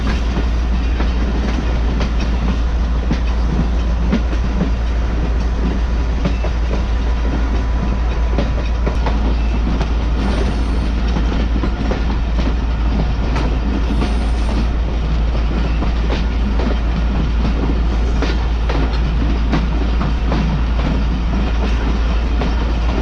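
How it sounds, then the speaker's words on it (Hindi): A Mohen Jo Daro passenger train rumbling toward Ruk railway station after heavy rain in Sindh, loud and close, with a steady deep roar, rhythmic clickety-clack of wheels on rail joints and occasional high wheel squeals, with no voices. "ट्रेन हमारी अप्रोच बना रही है रुक रेलवे स्टेशन पर"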